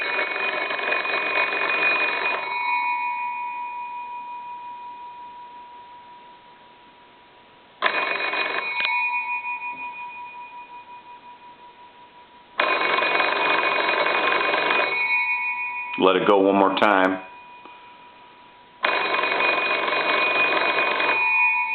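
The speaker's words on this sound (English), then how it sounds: "Let's go ahead and ring the telephone." Bells of an old Kellogg wooden wall-mounted crank telephone ring in several loud, close bursts of rapid metallic clanging, separated by pauses while the ringing decays; someone speaks briefly between rings.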